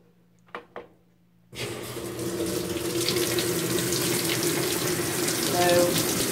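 Water gushes steadily into a top-loading washing machine filling with cold water for a load of colored clothes, a continuous close rush following a couple of brief knocks.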